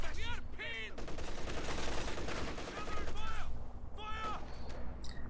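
Machine gun in Company of Heroes 2 rattles in sustained bursts amid other battlefield gunfire, loud and continuous, with whistling sounds and a commentator talking over it.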